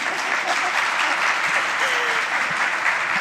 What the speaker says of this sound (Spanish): Señor, aplaudan.